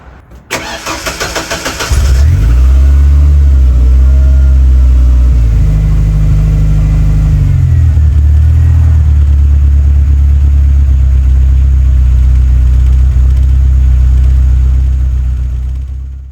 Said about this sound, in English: Sometimes I start the car, cycle the key, and just to make sure that everything is okay.